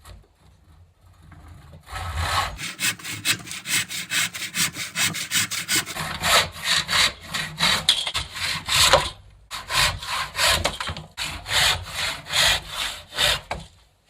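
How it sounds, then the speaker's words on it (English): A hickory axe handle is hand-sawn into 8-inch chunks, with rhythmic, close, rasping saw strokes starting after a brief quiet moment and repeating steadily, pausing briefly midway. "First off, cut the axe handle up into chunks. I'm cutting this one into 8-inch chunks."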